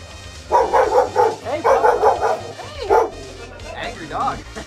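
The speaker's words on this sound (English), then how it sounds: "Who's an angry dog?" A dog barks angrily in several sharp, yipping bursts up close, with short pauses between them and people talking nearby.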